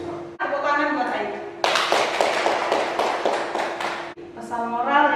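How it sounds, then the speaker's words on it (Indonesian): A classroom audience claps for a student named Ayu in a burst of dense applause lasting a few seconds, with a person talking just before and after it. "Tepuk tangan buat Ayu"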